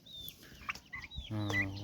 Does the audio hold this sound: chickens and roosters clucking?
yes